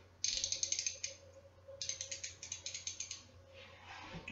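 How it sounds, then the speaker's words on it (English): New 1/4 inch ratchet from a 233-piece Mastercraft tool set: close, crisp rapid clicking in two quick bursts with a short pause between, loud against a quiet room. "I get to play with the ratchets."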